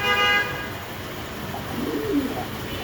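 Pet pigeons cooing close by, a short soft coo near the end after a brief tonal note at the start, faint against quiet indoor background.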